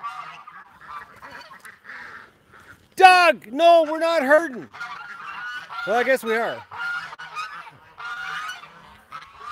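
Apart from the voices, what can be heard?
ducks being chased by a dog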